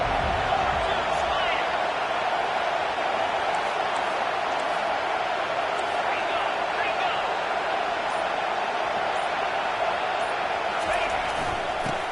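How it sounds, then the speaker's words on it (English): Stadium crowd in the College Football 25 video game swelling as the defense is pressed in the red zone, a steady, dense roar holding at constant loudness under a commentator's talk. "Crowd coming to life here, trying to help this defense down in the red zone"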